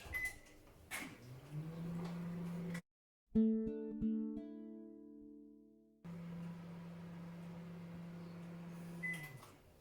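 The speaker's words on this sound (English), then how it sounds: "We just slap it in the microwave" A microwave oven hums steadily while cooking a one-minute keto bread, its door shutting with a clunk and a few beeps before the low drone runs on, close by and quiet.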